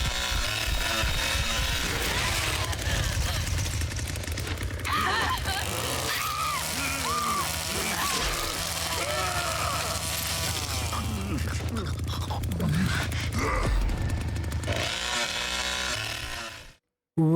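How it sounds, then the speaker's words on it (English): Chainsaw pushed into a body in a film scene, a continuous buzzing engine drone under loud talk, screams and dramatic film sound throughout. "He picks a spot in the back, places the chainsaw, and pushes."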